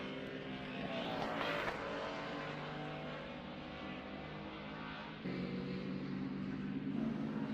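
Baby Grand class race cars roar past at Alaska Raceway Park during the final lap of the main event, a steady dense engine drone with a louder surge as the pack crosses the line.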